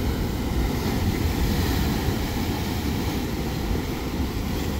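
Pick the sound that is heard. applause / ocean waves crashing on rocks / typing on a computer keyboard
ocean waves crashing on rocks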